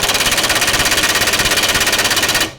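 An impact wrench on its lowest speed setting hammers at a nut and bolt in a loud, fast, regular rattling burst that stops abruptly near the end, with no talk.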